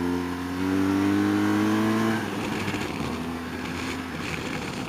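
A 2016 BMW R1200GS boxer-twin motorcycle engine revs with a rising tone, then settles into a lower steady drone as the bike rides on, fairly close.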